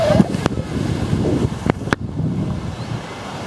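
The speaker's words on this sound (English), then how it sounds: "We are at Horseshoe Beach," Waves wash in at Horseshoe Bay Beach in Bermuda, with steady surf and gusting wind buffeting the microphone and a few sharp knocks.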